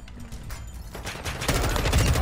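Gunfire in the video game DMZ, rapid bursts of shots rising from a quieter start into dense, loud automatic fire over about two seconds.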